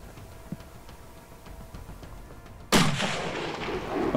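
A single loud rifle shot cracks out while hunting deer in New Zealand alpine country, sharp and close with a rolling echo trailing off after a quiet, faintly ticking lead-in.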